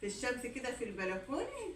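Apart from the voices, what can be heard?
No everyday noises stand out.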